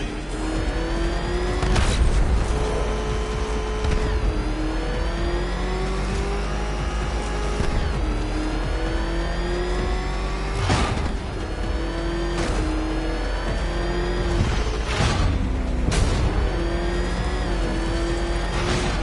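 Batmobile engine in Batman: Arkham Knight, revving hard and racing steadily with rising and falling pitch, loud and continuous, with brief skids and shifts and no talking.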